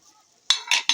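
Tea cups, pots and plates clink together in a home kitchen in three quick, bright knocks close by, with no talking.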